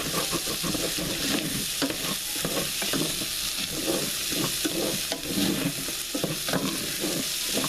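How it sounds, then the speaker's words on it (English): Potatoes stirred in a pan with melting butter, repeated close scraping strokes over a constant frying sizzle, with no talking. "Just keep stirring."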